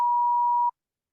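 A single steady electronic beep, replacing a word in a recorded listening test, sounds clear and constant for about three quarters of a second before cutting off abruptly into silence.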